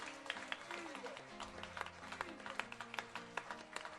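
A church congregation at a convention thanksgiving service claps and applauds together. The claps are sharp and irregular, sounding over voices and low tones that carry through the whole clip.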